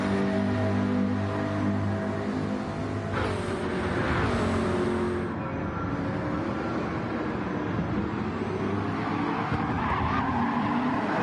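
A Lamborghini Murcielago slides sideways around a corner in a racing video game, with a steady engine drone and a long tire squeal that rises and falls over several seconds, loud and continuous.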